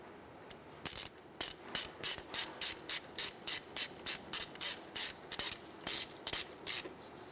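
Ratchet snugging up bolts on the power steering pressure line of a 2003-2011 Honda Element with an 8 millimeter socket, a steady run of about sixteen quick, evenly spaced clicking bursts, close and clear with no talking.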